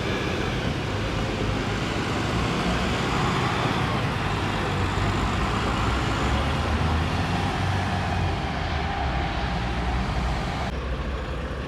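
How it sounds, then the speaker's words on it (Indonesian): A long-distance bus from Jakarta idles and moves at the AAL bus terminal, giving a steady, loud diesel rumble with broad traffic noise around it and a faint hiss like an air brake, with no talk. "Ya, ini bus dari Jakarta ya"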